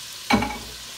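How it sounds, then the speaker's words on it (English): Carrots hit a hot pot for beef stew with one sudden, close sizzle that fades quickly into a soft, steady hiss. "I'm gonna throw my carrots in there"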